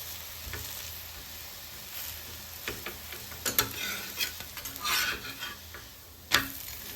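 Thalipeeth frying in oil in a home kitchen pan, a low steady sizzle broken by scraping and stirring strokes and a few sharp clinks of a spatula against the pan, close and alone.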